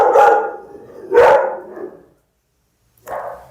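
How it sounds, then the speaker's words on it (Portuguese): Two loud dog barks close by, followed after a short silence by a third sharper bark. "São 5 cachorros aqui. Então, tem muito latido."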